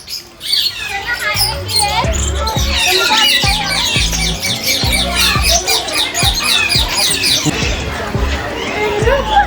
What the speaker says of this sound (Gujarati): જોઈ શકો છો પોપટ.